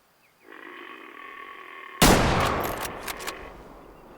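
Hunting rifle shot in the video game Way of the Hunter: a single sudden loud blast over a steady ambient hum, with a rolling echoing tail and a few crackling reports fading out.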